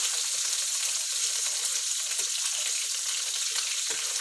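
Food frying in a pan, a dense, steady hiss of sizzling oil with faint crackles and pops, close and continuous with no talking.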